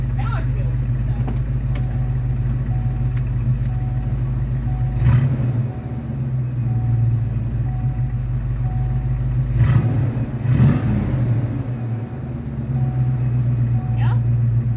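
A 1986 Ford Mustang fitted with a 1988 Thunderbird engine converted to a carburetor runs with a steady, loud low rumble throughout, swelling in a few revs, while people talk over it nearby.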